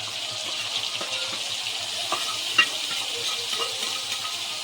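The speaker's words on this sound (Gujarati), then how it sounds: "હવે આપણે નાખશું આ મસાલો." Onion-tomato masala frying in a pan with added spices, a soft steady sizzle with faint stirring scrapes and small pops throughout, fairly quiet and without talk.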